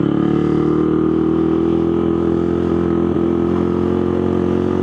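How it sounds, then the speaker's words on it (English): A street mini bike engine idles and runs with a steady close drone, the note wavering slightly as it hesitates, no one speaking. "The bike just acts really weird. It's like it's hesitating."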